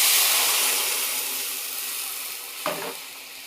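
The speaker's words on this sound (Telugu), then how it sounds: "మినపప్పు, శనగపప్పు అండి. పోపులో వేసేసుకున్నానండి. పోపు గింజలు ఎర్రగాయండి." Urad dal, chana dal and a pinch of hing tempering in hot oil for jowar flour upma, a close, loud, continuous sizzle that eases off a little, then a short clattering stir near the end.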